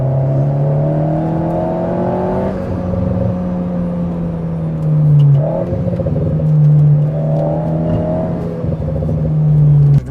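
An Alpine A110 Pure accelerating along the winding Chartreuse mountain roads, its engine a loud, steady droning hum heard from inside the car. The pitch climbs, dips briefly at a gear change midway, then builds again.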